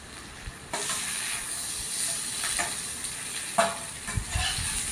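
Tomatoes hit a hot pan with prawns and broccoli, starting a steady close sizzle broken by a few scraping, clattering stirs of a spatula.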